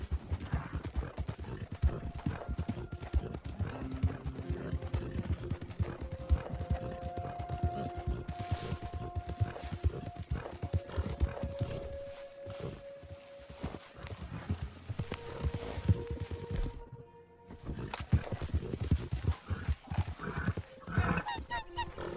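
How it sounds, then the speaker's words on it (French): Steady clip-clop of horse hooves ridden in Red Dead Redemption 2, a continuous rhythmic trot close up with a brief whinny, game music tones underneath and a voice speaking over part of it. "On a qu'à y aller avec le cheval."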